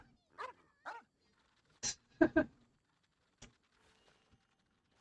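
A dog in Genshin Impact gives a handful of short, sharp barks and yips, spaced out with quiet gaps, then a last faint yelp.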